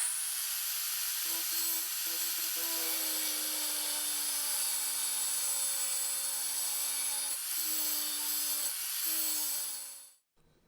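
A steel file is ground and notched into a hunting knife shape with a power tool, a long steady high whine with a droning hum, close and continuous until it winds down abruptly at the end.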